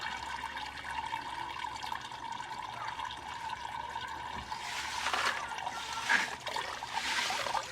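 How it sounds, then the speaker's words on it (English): Liquid poured off a mix of biochar and alpaca manure, a soft continuous trickle and splash that swells toward the end, heard alone and fairly close. "and pour off the liquid."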